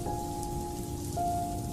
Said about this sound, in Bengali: কিন্তু এমন সময় বাইরে আবার জোর বৃষ্টি শুরু হলো।